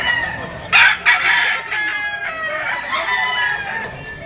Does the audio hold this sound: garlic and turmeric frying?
no